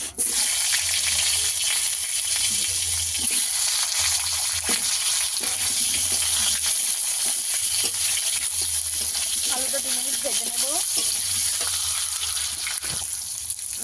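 Potato pieces frying in oil with panch phoron, bay leaves and dried chilies, a loud continuous sizzle with a low hum and intermittent stirring clatter near the mic.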